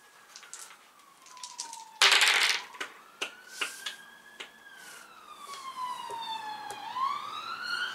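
A wailing siren rises and falls throughout during play of the tabletop car game Gaslands, punctuated by sharp metallic clinks and a loud crash near the start, with no voices.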